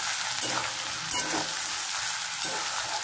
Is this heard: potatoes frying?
yes